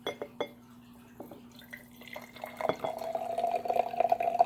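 Water mixture poured into a glass jar for a homemade galaxy jar, a few drips and clinks early on, then a steady, near trickle of liquid filling the glass.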